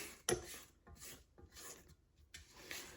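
A spatula scrapes the sides of a mixing bowl of apple nut spice cake batter, with soft, faint rasping strokes repeated several times, the first one sharper.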